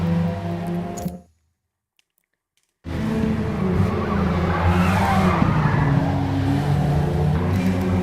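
A race car spins out and skids in a racing video game at Watkins Glen, with engine noise cutting to a brief silence before a long tire screech and sliding roar that carries to the end.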